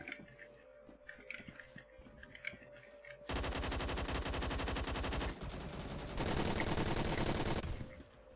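Sustained automatic fire from an AUG A1 rifle in the online shooter Phantom Forces, with long loud rapid bursts after a quieter stretch of scattered game clicks and footsteps, close and dense with a brief pause between bursts.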